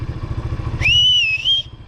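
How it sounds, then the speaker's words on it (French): A sharp, piercing two-finger whistle rings out for under a second, loud and close, over a low rumbling engine in the background. "Je peux siffler. Seulement avec les doigts"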